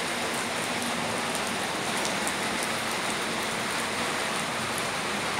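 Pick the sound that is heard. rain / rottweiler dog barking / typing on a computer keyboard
rain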